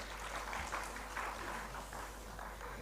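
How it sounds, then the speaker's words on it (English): Faint, distant applause from an audience welcoming panelists at a conference plenary on AI and green careers, a thin steady clatter of clapping over a low hum. "Please, let's have a round of applause for them."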